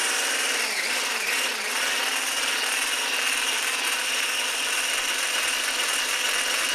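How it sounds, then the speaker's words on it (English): Egg whites being whisked for tiramisu produce a steady, bright, hissing whir that continues without a break for nearly seven seconds, with no voices over it. "But we have to whisk the egg whites up like this."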